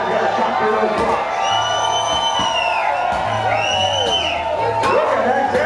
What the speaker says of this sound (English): Cheering on your man, the louder you cheer, the harder those guys are going to chop through those blocks.